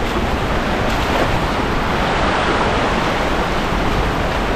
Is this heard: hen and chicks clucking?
no